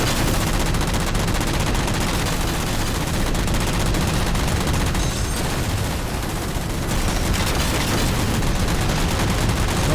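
Dense, loud gunfire rages through a Halo battle against Covenant forces, continuous rapid bursts and booms with no letup for the full stretch.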